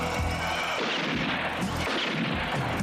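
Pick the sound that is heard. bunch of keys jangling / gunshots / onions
gunshots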